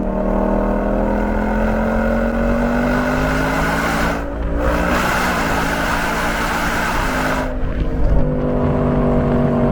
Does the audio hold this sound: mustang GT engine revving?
yes